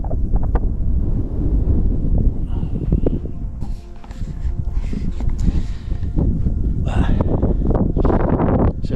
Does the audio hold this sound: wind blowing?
yes